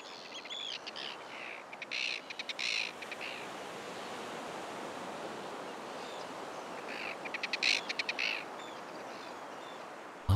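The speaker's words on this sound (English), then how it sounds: "this Arctic tern has finally reached its breeding ground in Iceland" An Arctic tern at its breeding ground in Iceland gives sharp, scratchy calls in a few short bursts, fairly distant over a constant wash of wind or surf.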